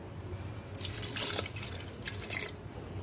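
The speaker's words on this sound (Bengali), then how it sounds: "এবার দিয়ে দিব আমি পরিমাণ মতন জল।" Water poured into a pressure cooker holding potatoes for mutton biryani gives a soft, steady splashing that runs briefly and stays fairly faint.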